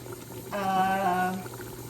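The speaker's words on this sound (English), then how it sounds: "I'm just going to add water now" Water poured into a pot of seafood soup, a steady filling gurgle with a rising tone that lasts under a second, over a quiet kitchen background.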